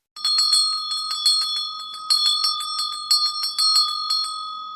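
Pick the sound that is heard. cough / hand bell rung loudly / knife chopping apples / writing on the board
hand bell rung loudly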